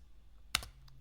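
A brief burst of a couple of computer keyboard keystrokes while coding in MakeCode for Minecraft Education, quick and fairly faint, with no talking.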